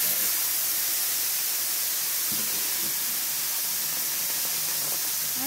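Loud, continuous steam hiss from water sizzling on a hot flat iron griddle where cheese is melting over smash burgers, a broad steady spray of noise lasting throughout without talk.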